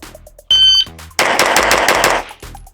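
A fast 2011-style pistol fires a rapid string of eight shots in quick succession, sharp and loud, after a brief metallic click.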